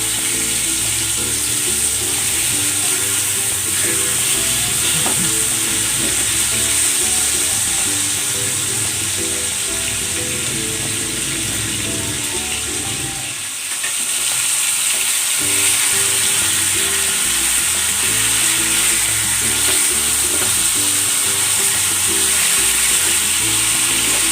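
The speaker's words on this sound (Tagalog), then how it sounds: "sinalang ko na yung ating pork steak" Pork steak fries in a hot pan with a loud, steady sizzle of bubbling oil that carries on close and continuous, briefly dipping midway before resuming at full strength.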